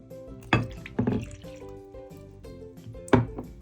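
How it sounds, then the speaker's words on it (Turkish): Water added to starch in a bowl for an oobleck experiment, heard as a few close splashes and drips with quiet liquid sounds between them. "Şimdi kabıma boşalttığım nişastamın üstüne suyumu ilave ediyorum"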